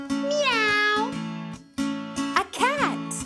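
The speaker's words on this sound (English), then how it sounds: "A cat." A cat meows with long, clear, rising and falling calls close by, several meows in a row, set within a children's sing-along about animal sounds.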